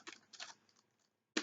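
Computer keyboard typing code, a few quick soft keystrokes in short bursts, then a pause and one sharper key press at the end, faint and close.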